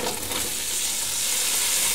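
Onions hiss and crackle as they fry in oil in a pan for a pot roast, making a loud, steady, close sizzle with no speech.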